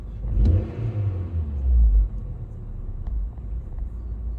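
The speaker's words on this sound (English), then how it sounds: "after you rev the engine, it does struggle a bit to recover itself down at idle speed" A VW Polo 1.4 engine with a P1553 fault revs once, then sags and struggles as it drops back toward idle, a low close rumble settling unevenly with no talk.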